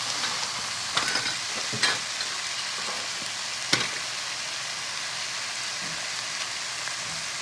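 Beef frying over high heat in a pot, a constant close sizzle with a few sharp clanks and scrapes of stirring, no speech.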